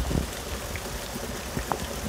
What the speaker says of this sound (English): It is raining really hard out here.